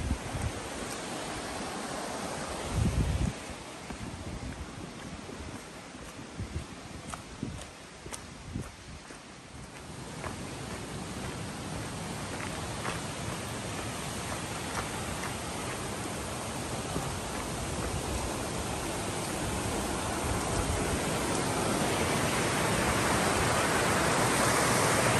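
River water flowing steadily beside trail campsites on a long-distance thru-hike, a broad continuous rush that builds louder and denser over the stretch, with scattered footsteps and clatter near the start.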